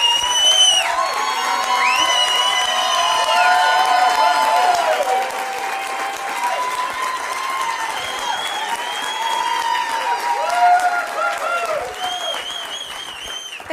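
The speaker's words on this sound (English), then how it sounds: "All the claps and applause." An audience in a meeting room breaks into sustained applause with whoops and cheering shouts, loud and full throughout, tapering slightly toward the end.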